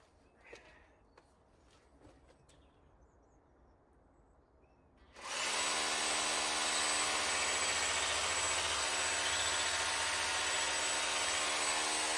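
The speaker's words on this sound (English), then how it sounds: "first hole drilled" After a few seconds of quiet rustling, a power drill starts up and whines loudly and steadily until the end, drilling a hole into a wall.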